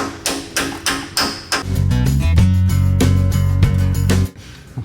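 A hammer tapping a bushing into place during a clutch change: four sharp metallic taps at an even pace, then a loud ringing, grinding metallic drone that stops abruptly before a final tap.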